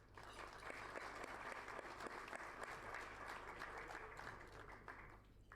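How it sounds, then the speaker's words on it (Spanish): Applause at a Rotary Club gathering in Buenos Aires as guests are welcomed, steady clapping from a roomful of people that holds even throughout and sounds somewhat distant and soft. "le demos una cordial bienvenida, saludándolos con un aplauso"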